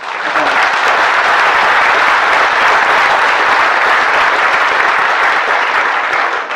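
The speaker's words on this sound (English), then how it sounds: "let's give him a round of applause" Sustained applause from an awards ceremony audience at a bird photography prize event, a dense steady clapping that holds loud and even throughout, with no voices rising above it.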